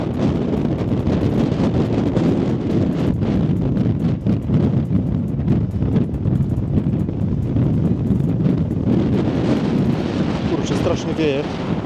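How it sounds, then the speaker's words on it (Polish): Strong gusting wind on a mountain summit buffets the microphone with a loud, constant low roar for the whole stretch, with no clear talk heard above it. "Strasznie dziś wieje, także jak mnie słabo słychać, to sorry za to."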